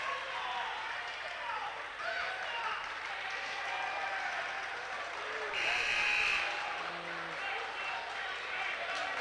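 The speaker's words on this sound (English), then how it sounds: "Fuel Line started clapping" A crowd at a college men's basketball game between Mount Union and John Carroll claps and murmurs in a gym, with sneaker squeaks, a brief whistle-like tone, and an announcer talking over the steady background noise.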